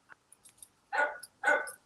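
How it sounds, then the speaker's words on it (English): A dog barks twice in quick succession, close and fairly loud, preceded by a few faint yips and whimpers. "Stop barking."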